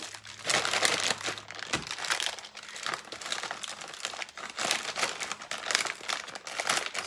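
Protein bar wrapper, flattened inside a compact bag, crinkling and crackling in repeated close handling bursts, loud and irregular with no talking.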